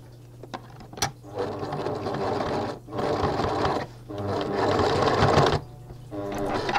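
Sewing machine stitching a sundress seam, close and steady, running in several motor-driven bursts with brief pauses as the fabric is turned.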